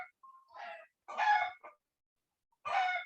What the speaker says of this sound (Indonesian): Ibu punya background ini ayam berkokok mempengaruhi suara Ibu?